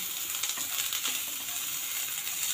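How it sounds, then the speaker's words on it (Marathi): Ridge gourd peels being sautéed in a pan for chutney, giving a steady soft sizzle with faint stirring scrapes throughout, no talking. "ह्या सारी ह्या छान परतायच्या आहेत।"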